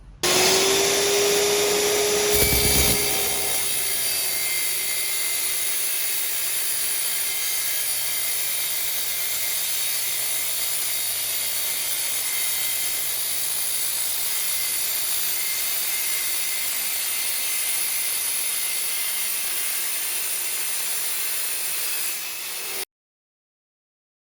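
IQ Power Tools TS244 saw running steadily through a miter cut at 22, 20 or 45 degrees, a loud continuous whining motor and blade roar that starts abruptly and holds for about twenty seconds before cutting off.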